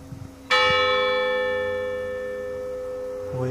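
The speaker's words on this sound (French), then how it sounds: "On voit les cloches, on voit pas laquelle qui sonne." A church bell in Brittany strikes once loudly, its bright metallic tone ringing out and decaying slowly over several seconds, with a second strike starting at the end and faint outdoor sounds beneath.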